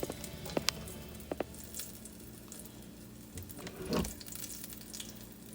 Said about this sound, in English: Oh yeah, see how that is sizzling?